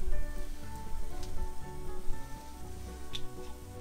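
Meat and yellow curry paste sear in a Dutch oven on a Napoleon Rouge 525 SE grill, a steady crackling sizzle with scattered pops, close and moderately loud under faint background music.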